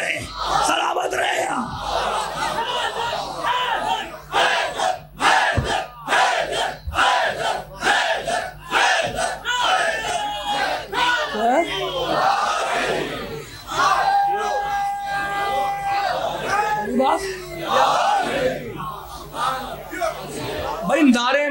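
Large crowd at a religious gathering in Multan chanting slogans in rhythmic bursts, loud massed voices rising and falling with brief pauses, with some calls and speech between chants.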